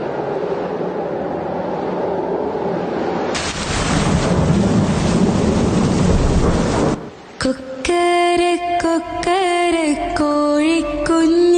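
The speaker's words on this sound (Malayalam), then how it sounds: "എന്തൊരു മഴയാ" Heavy rain with thunder: a steady background hiss swells into a loud, rumbling downpour roar for a few seconds, then gives way to clear tonal, sustained sounds.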